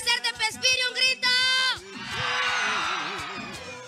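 A crowd in a town square in Pespire shouts and cheers, first in sharp bursts with a voice leading, then a sustained loud roar of massed voices.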